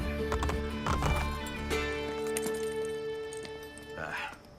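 Horse hooves clip-clop in a steady rhythm in Assassin's Creed Brotherhood, nearby, layered under game music and ambient sound, with a whinny near the end.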